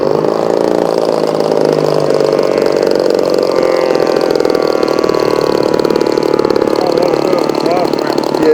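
An O.S. 61 engine powers a Proctor Nieuport 11 World War I model plane at a warbirds event, buzzing steadily and loudly throughout with a constant high drone and no voices.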